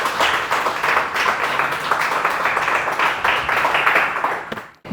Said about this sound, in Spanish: Dale un fuerte aplauso al Rey de Reyes y Señor de Señores